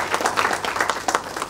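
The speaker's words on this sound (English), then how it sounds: "please give a big hand of applause for both of them" Applause at an international conference on Industry 5.0 as two industry guests are welcomed, brief steady clapping from the audience at moderate level.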